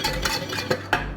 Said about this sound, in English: Now I'll go in for the bigger whisk now because I got my flour nicely